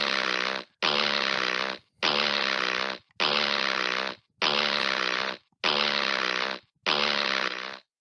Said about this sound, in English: it's like a bunch of farts in one